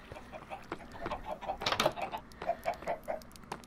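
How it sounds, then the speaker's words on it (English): Chickens clucking in the Minecraft video game, a series of short, fairly quiet clucks in an uneven rhythm, with a busier cluster of calls in the middle. "Chickens."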